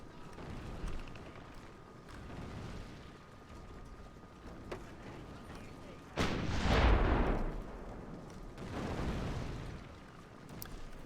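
Bombard cannons fire in a historical battle game, one heavy booming blast rising over a low rumble of distant battle noise, with a fainter thud following.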